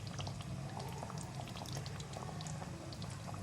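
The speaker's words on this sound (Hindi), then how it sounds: "दो टेबल स्पून केवड़ा डाल रही हूँ इसमें।" Kewra water added to a simmering chicken shahi korma, heard as a soft steady bubbling and liquid sizzle close by with small drips and pops, no voices.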